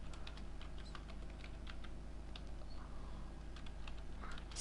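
Soft, quick keystrokes on a computer keyboard while entering a Java class name, a steady patter of light clicks close by with no talking.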